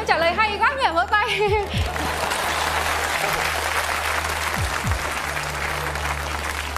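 A host speaks briefly, then a live audience at a Vietnamese stage comedy breaks into sustained, full applause that carries on steadily to the end.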